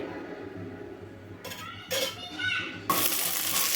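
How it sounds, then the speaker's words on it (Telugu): Onions frying in oil in a kadai, heard as a rising hiss and crackle that grows louder and steadier toward the end, with a few clinks of a spoon against the pan. "దాంట్లో కొంచెం ఆయిల్ వేసుకొని అయితే ఉల్లిపాయలను అయితే వేయించేసుకుందాం"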